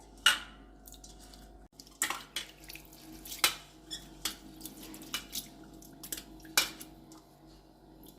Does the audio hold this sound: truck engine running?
no